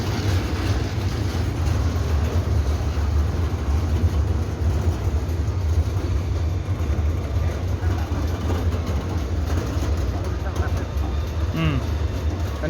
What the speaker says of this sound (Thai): อันนี้เป็นรถไฟสำรองเนาะ